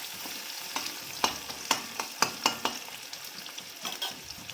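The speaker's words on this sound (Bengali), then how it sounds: "একটা তেজপাতা আর দুটো শুকনো লঙ্কা ফোড়ন দিয়ে দেবে।" A bay leaf, two dried chillies and onions sizzle steadily in hot oil in a pan. Sharp spatula scrapes and clicks cut in at a loose, regular rhythm, close up and with no voices.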